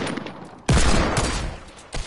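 Video-game gunfire on PS4: a sudden loud burst of rapid shots that fades over about a second, then one more short shot near the end.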